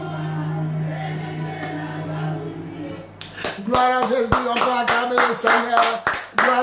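A church congregation claps in praise, rhythmic hand claps rising after a few seconds of sustained music and voices, loud and close over continuing accompaniment.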